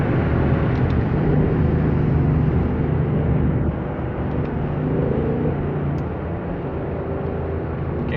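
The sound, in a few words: Ford Mustang GT convertible engine in traffic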